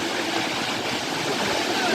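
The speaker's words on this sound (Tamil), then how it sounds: "நல்லா ஹைட்லேருந்து தண்ணி விழுறதுனால ஒன்றும் நல்லா இருக்கு" Steady, dense rush of falling water, a constant roar with no breaks, like a waterfall heard up close.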